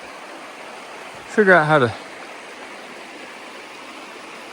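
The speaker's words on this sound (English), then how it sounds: "cross this creek again without getting our feet wet" A creek in Spearfish Canyon, South Dakota, rushes with a steady, even watery roar close by, while someone briefly speaks over it partway through.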